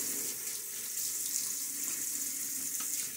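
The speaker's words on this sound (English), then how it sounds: "A little quick water splash." Running water from a tap splashes steadily during a wet shave, a soft continuous hiss and trickle close by for a few seconds without speech.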